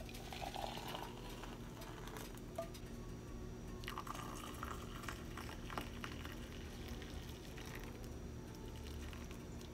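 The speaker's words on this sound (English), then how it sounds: "So I'm gonna pour the milk in first." Milk is poured into a breakfast bowl, a soft, faint liquid trickle with a drip or two over a steady low room hum.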